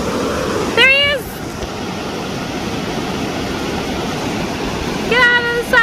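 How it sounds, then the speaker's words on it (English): Fifth Falls, a waterfall on Minnesota's North Shore, roars as a steady broadband rush throughout, with bird-like whistled calls or voices rising briefly over it near the start and end. "We made it to Fifth Falls."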